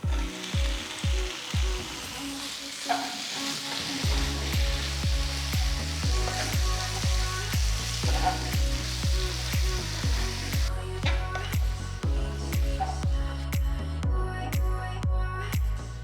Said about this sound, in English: Now add the marinated prawns.